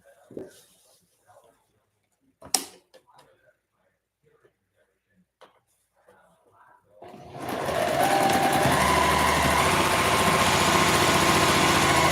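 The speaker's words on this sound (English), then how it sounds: "my sewing machine that I use to make my tutus" A sewing machine used for making tutus and quilting starts up after a few faint handling clicks and knocks. It settles into a loud, steady, continuous whirring drone that runs to the end.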